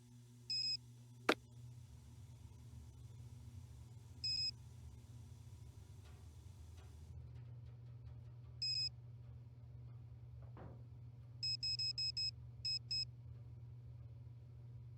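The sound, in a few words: phone ringing in Nancy Drew video game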